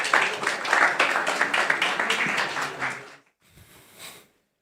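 Applause from a forum audience at the GLOBSEC Forum welcoming guests onto the stage, steady clapping for about three seconds before cutting off, followed by a brief softer patter.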